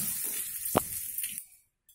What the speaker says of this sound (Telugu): ఇప్పుడు దీనికి ఇలా పోపు కలుపుకొని